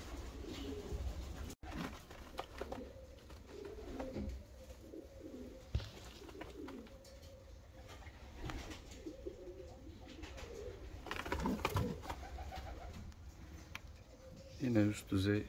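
German Demkeş tumbler pigeons coo in repeated low, throaty phrases throughout, steady and fairly close, alongside a talking voice.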